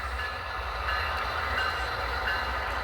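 An HO scale model Amtrak train runs along its layout track, giving a steady close rumbling whir of motor and wheels with a faint high whine, continuous throughout.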